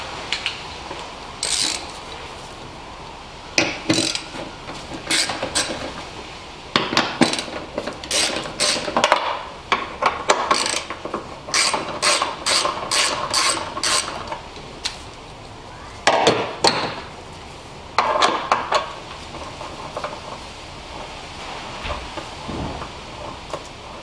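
A ratchet wrench loosens bolts on the M275 engine of a Mercedes S65 AMG during coil pack removal, giving repeated close clicking bursts with short pauses, fairly loud and with no talk.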